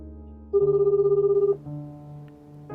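A telephone ringing: an electronic ring burst of rapid pulsing lasting about a second, then a lower steady tone, heard clearly over a quiet background.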